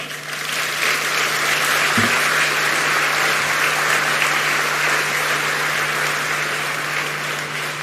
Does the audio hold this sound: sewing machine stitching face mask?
no